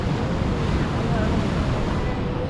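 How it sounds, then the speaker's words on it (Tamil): Large ocean waves roll onto a Goa beach in a steady, broad roar, close and loud, with wind buffeting the microphone throughout. "பெரிய பெரிய அலைகள்லாம் வருது."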